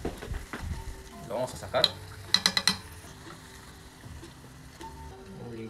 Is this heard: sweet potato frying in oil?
yes